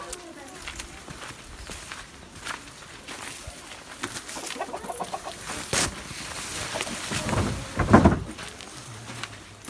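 Chickens cluck and murmur nearby in a village garden amid rustling and scattered footsteps, with a louder squawk near the end.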